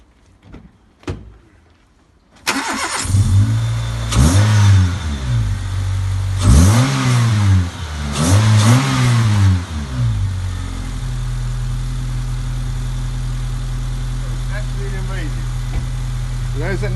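Honda Civic Type R fitted with an air induction kit: the engine starts, then gets blipped through several sharp revs rising and falling before settling into a steady idle, heard up close with some talk and a door sound.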